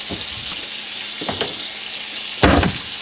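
Partially frozen steaks seasoned with steak spice sear in a hot pan, giving a steady close sizzle broken by a few sharper crackling bursts as they are moved.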